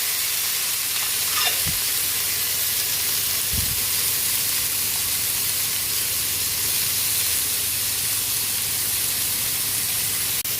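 Pork and onions sautéing in a pan, a steady broadband sizzle and hiss running throughout with a couple of brief low thumps near the start from ingredients or a utensil hitting the pan.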